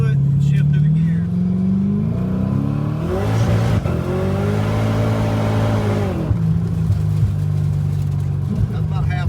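A car engine with a 12 lb Vortech T-Trim supercharger, a 306 V8 and an AOD transmission accelerates at half throttle. Its rising drone and supercharger whine climb through a gear change, loud and close, with voices talking over it.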